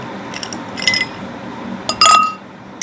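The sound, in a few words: ice cubes dropped into a glass for plum juice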